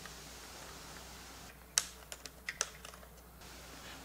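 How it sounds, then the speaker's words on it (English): A pencil scratches and taps in a few short, sharp strokes while outlining a hole on a metal bracket for a recliner repair, faint and close over quiet room tone. "I'm just going to take a pencil and outline the hole."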